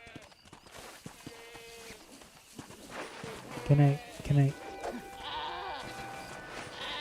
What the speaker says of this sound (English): What is a goat doing here?